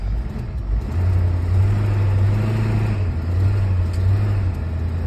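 An old gasoline truck strains while towing, its engine revving loud and close in a steady droning surge that swells and eases slightly, with no talk over it.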